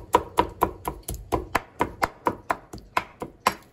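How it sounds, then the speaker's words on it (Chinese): A cleaver chops diced pork on a cutting board for homemade Chinese sausage: about fourteen sharp, evenly spaced whacks in steady rhythm, close and loud with nothing else heard. "切完以后呢，我们再啊把它剁一剁。"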